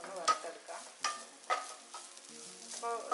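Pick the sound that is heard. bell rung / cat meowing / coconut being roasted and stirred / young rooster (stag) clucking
coconut being roasted and stirred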